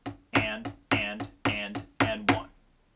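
Four pairs of sharp percussive hits fall on an even beat, each a strong accent followed by a lighter tap, close and dry with no talking.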